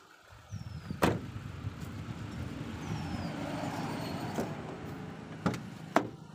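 A 2006 Hyundai Santro's engine idles steadily just after starting, a low, even hum with a few sharp clicks or knocks close by near the start and end.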